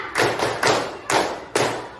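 A class of pupils claps the 'tepuk 5' pattern in unison: four evenly spaced, sharp group claps close by with no talking.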